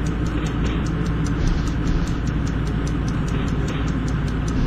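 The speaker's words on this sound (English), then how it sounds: "We can hear the brakes grind." Grinding brakes of an SN61 locomotive in a train simulator game, heard as a dense, steady mechanical rumble and hiss with a rapid ticking rhythm running through it, loud and continuous without pause.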